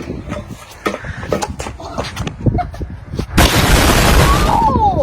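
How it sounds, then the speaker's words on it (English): A homemade baking soda and vinegar bomb in a plastic water bottle bursts outdoors with a sudden loud pop and a hiss, after people talk excitedly nearby. "Oh, it's about to explode!"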